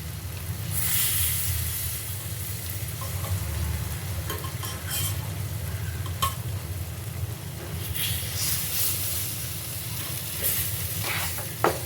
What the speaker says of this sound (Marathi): परत मिश्रण व्यवस्थित ढवळून घ्यायचं आहे